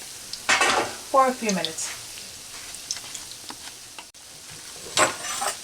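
Churros fry in hot oil until golden brown, a soft steady sizzle running beneath a person talking close by.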